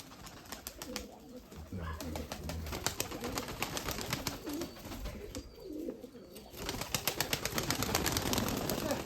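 Pigeons coo softly and repeatedly in a loft of crested, shaggy-footed birds, overlapping low calls with fluttering and rustling close by.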